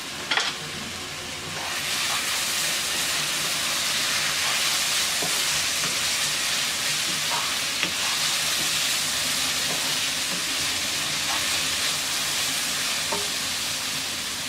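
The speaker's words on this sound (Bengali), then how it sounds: "ঢাকনা খুলে নেড়ে দিচ্ছি।" Small red potatoes frying in a covered pan, a loud, continuous sizzle after a brief quiet start, with faint scrapes and taps of stirring scattered through.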